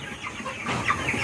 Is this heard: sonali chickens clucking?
yes